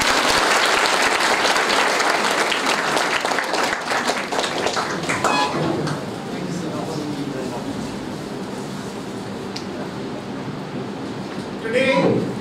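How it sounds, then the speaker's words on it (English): A crowd claps loudly and steadily, the applause thinning out toward the end, with a brief voice and hum under the fading claps. "Please give him a round of applause."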